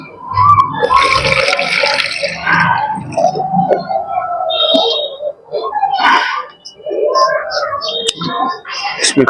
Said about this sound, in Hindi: अब ये जो पानी है इसका पानी निकाल लेते हैं।